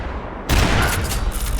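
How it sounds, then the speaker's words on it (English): Barrage of gunfire in the video game Max Payne 3, starting abruptly after a brief quiet moment and continuing as a dense, loud, sustained volley of overlapping shots. "It was a barrage of gunfire."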